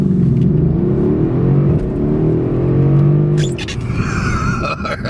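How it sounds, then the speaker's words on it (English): A Mercedes-Benz CLS 63 S AMG with a 577 hp engine does a race start in automatic mode, its engine roaring hard as it accelerates through a gear change, loud and close, with no talking. "So that was a race start in automatic mode"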